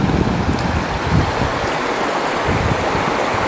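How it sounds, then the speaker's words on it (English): A river running low in the New Hampshire autumn rushes and gurgles steadily, close and fairly loud, with a constant broad wash of water and no talking. "We're at the river."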